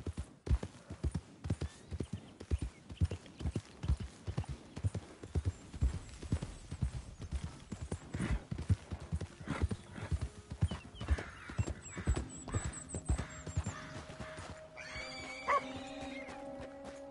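Horse hooves clip-clop in a steady rhythm from a Red Dead Redemption 2 game scene, close and clear, then give way to a horse's whinny and snorting near the end, with faint game ambience behind.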